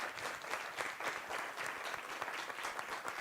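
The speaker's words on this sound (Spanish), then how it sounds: "Un aplauso, por favor." An audience at a seminar applauds, a dense steady patter of many hands clapping throughout, fairly close and without talk over it.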